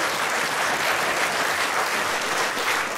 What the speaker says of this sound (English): Round of applause, please, for the 10 best newcomers this year.